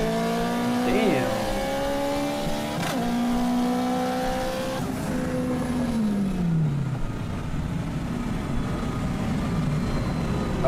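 Corvette in a street race accelerating hard, engine note climbing through gears then sweeping down as it passes, loud and continuous with crowd voices faintly underneath.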